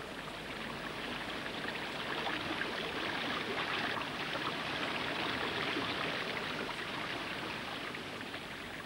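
Water from the upper River Tees runs steadily as a broad, even wash with fine splashing detail, close and continuous throughout with no talk.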